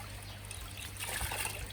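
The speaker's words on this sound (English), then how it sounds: "I go into one side of the bucket and I'm just mixing them around" Koi pond filter media is stirred by hand in a bucket of water, producing faint sloshing and trickling with a swell of splashing midway and a low steady hum underneath.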